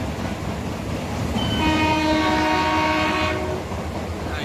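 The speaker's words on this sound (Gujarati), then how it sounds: "આ મીટર ગેજ ટ્રેનમાં અંદર બેસવાની સગવડ છે." An old meter gauge passenger train on the Junagadh to Sasan Gir line rumbles steadily while its horn sounds one long sustained blast, loud and alone.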